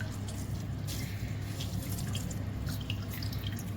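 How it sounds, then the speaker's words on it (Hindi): Water squeezed from a soaked bakery bun for chicken cutlets trickles and drips steadily and close, a continuous wet patter for several seconds. "बिल्कुल अच्छे तरीके से मैं इसे निचोड़ लूँगी"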